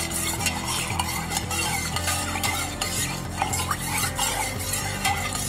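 Salt being stirred into water in a cooking pot for chicken biryani, a steady swirling slosh with repeated scraping and light clinks of a spoon against the pot, close and continuous.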